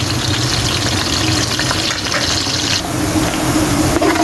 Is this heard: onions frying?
yes